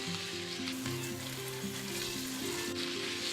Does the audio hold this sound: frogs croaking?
no